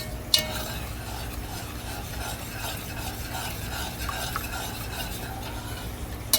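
Hamburger macaroni is stirred in a pot as hot boiling water is added, making a continuous close scraping and sloshing with soft sizzling underneath and a few sharp clinks of a utensil against the pot at the start and end.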